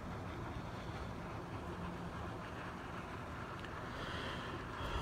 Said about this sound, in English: with that wind blowing and being out on this lake too